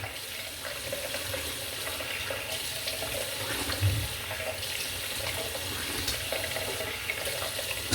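Tap water runs steadily into a sink for rinsing after a wet shave, a close, continuous hissing splash with slight shifts as hands move through the stream.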